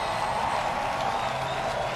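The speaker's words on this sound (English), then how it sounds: "the crowd acknowledging Tony Stewart in his final run at Richmond International Raceway" Crowd at Richmond International Raceway applauding and cheering for Tony Stewart during a red flag, a steady, even wash of clapping and crowd noise.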